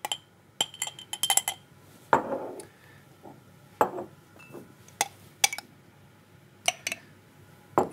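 Metal spoon chinks against a glass yogurt pot while jam is spooned in for homemade yogurt; a dozen or so sharp, bright clinks come in irregular clusters, close and alone, with no talking.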